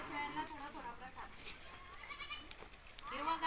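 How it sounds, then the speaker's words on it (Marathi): Goats bleating on a farm while being fed groundnut plants, several short cries repeating close by over steady background talk. "थोड्या शेळ्या खूप येडवणी करतात त्यांना थोडा थोडा प्रसाद टाकायचा आहे"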